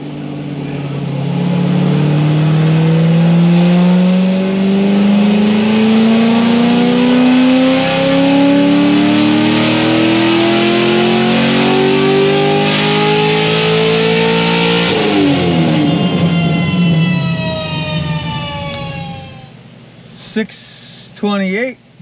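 A stage 4 Corvette Z06 with straight pipes revs up in one long, rising, very loud pull of about fifteen seconds, then drops back and settles before a few short blips.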